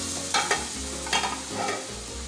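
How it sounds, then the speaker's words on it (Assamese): Milk stirred into butter and flour in a wok, a short burst of close stirring and scraping over a gentle sizzle, with no talking. "এতিয়া গাখীৰখিনি এই বাটাৰ আৰু ময়দাখিনিৰ লগত কেৰাহীখনত বাকি দিয়া হ'ল"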